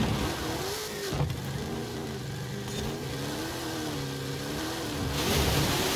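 A trophy truck engine in a racing video game, revving and rising and falling in pitch continuously at close range, a loud steady mechanical drone with no voices over it.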